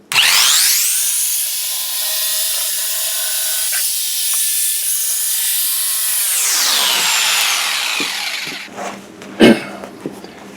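A knife cuts through seat foam while a dining room chair is reupholstered, a loud, steady whirring buzz that starts abruptly, holds for several seconds, then winds down, followed by a few soft knocks and handling sounds.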